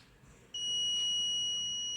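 An Arduino fire alarm buzzer sounds a steady, piercing high-pitched tone that starts abruptly after a half-second of quiet and holds continuously to the end.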